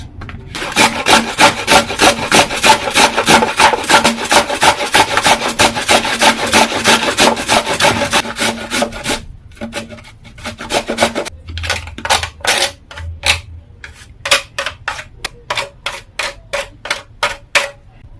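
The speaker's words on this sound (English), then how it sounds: "I'm just going to use the coarse part of my grater" Butternut squash is rubbed down the coarse side of a grater in fast, rhythmic rasping strokes, a dense steady run that breaks into slower, uneven scrapes with short pauses, close and loud, with no talking.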